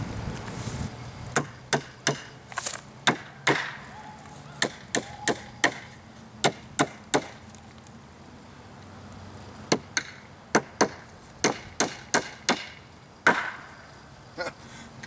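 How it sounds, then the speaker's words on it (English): Sharp, hard knocks of a ThruNite Catapult v3 flashlight used as a hammer striking wood, delivered in quick bursts of several blows with short pauses between groups, close and loud. "it could serve as a backup hammer for some light carpentry work"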